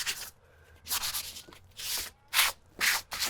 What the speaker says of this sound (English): I can sand anything that I need to sand while I'm here.